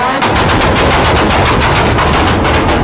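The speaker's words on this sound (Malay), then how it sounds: "exhaust ni, yes, dia akan mengeluarkan bunyi yang sangat-sangat handsome" A modified car exhaust blasts out a loud, rapid string of sharp crackling pops, a continuous close staccato burst with no pause for nearly three seconds.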